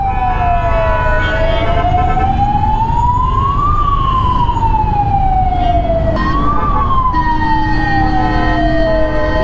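An ambulance siren wails loud and close in city traffic, sweeping slowly up and down in long continuous cycles over a steady rumble of engines, with no speech.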